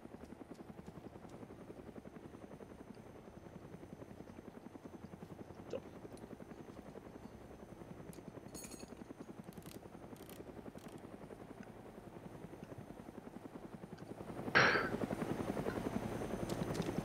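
Helicopter rotor and engine drone in the video game Arma 2 DayZ Epoch, a steady, fairly quiet whir throughout with a brief louder swell near the end.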